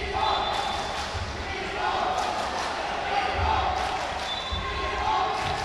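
Crowd noise at a men's final basketball game, a steady indoor murmur and cheer with ball bounces beneath it, mostly carried under continuous commentary talk.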